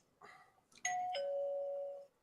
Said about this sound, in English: Who just got their doorbell ring?